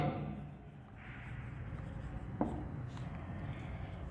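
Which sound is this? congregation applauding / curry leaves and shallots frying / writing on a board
writing on a board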